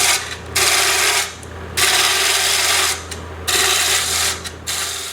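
A bowl gouge shears across spinning wood on a lathe while a lidded box is turned, producing loud, rough scraping bursts in several long passes separated by short pauses.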